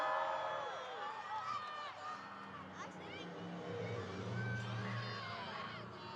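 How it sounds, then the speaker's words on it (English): Arena crowd at a Monster Jam truck race roars steadily throughout, a dense wash of cheering and yelling with whistles and an announcer-like voice carried in the background, loud and sustained without breaks. "Make some noise for Gravedigger, because here they go."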